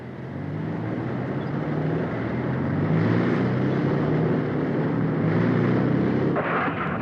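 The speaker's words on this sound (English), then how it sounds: "Recovery vehicle engines in transmission." Recovery vehicle engines run in a steady, loud, droning roar that swells slightly midway and holds without pause.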